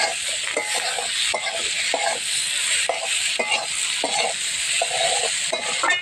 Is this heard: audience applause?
no